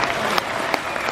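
Audience clapping at a South Indian celebration event, a dense, steady burst of applause from a crowd, loud and continuous throughout the short stretch.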